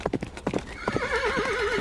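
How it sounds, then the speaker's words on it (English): A horse gallops with quick clip-clop hoofbeats, then gives a wavering neigh. The sound is close and clear, with no voices. "as he went galloping off over the meadow"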